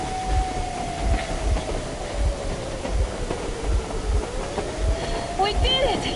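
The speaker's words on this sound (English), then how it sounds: "You're going to ram the train!" In the video game Metro Exodus, a train rolls along the rails with a steady rhythmic clickety-clack of wheels over joints and a low rumble, while a voice in the game speaks and a high metallic whine slides in pitch.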